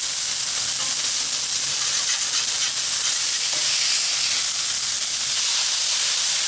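Smash burgers sear on a Blackstone griddle with a loud, continuous sizzle and hiss, steady and close throughout, with no speech.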